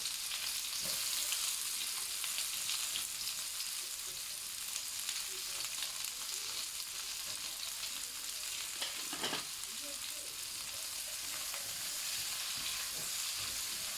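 Onions, chilies, garlic and ginger sizzle steadily in rendered pork fat for Thai-style crispy pork, a continuous close frying hiss with occasional stirring clinks and no talk.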